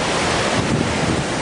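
A waterfall dropping into a large valley roars as a dense, steady rush of falling water, loud and unbroken, with some wind buffeting the microphone.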